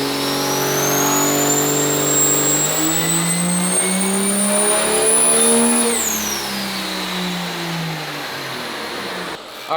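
A 2006 single turbo diesel pulling truck engine, 1168 horsepower, roaring under load during a power pull, with a rising whine climbing steadily then dropping off as the load eases, loud and close, with no talking.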